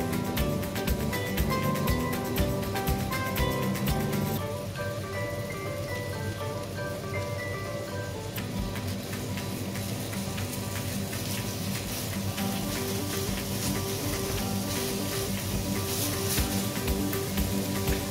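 Breakfast sausage patties frying in olive oil, giving a dense, steady crackle and sizzle like rain that continues evenly throughout, with no talking.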